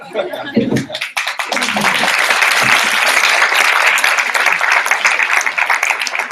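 A conference audience at a global health summit breaks into loud, sustained applause, dense clapping continuing steadily after a few opening words from a voice.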